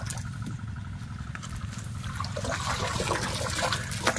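Water gushes strongly from the outlet of a solar-powered water pump on a catfish and pig farm, a loud, steady rushing flow that swells slightly toward the end, heard close and alone.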